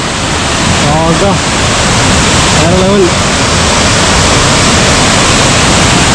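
A roadside waterfall on the Coonoor to Mettupalayam road pours in a loud, continuous roar close by, with a person briefly talking over it.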